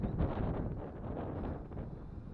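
Wind buffeting a 3DR Solo drone at takeoff, a fairly quiet, uneven rumble of gusts against the microphone that swells early and then eases slightly.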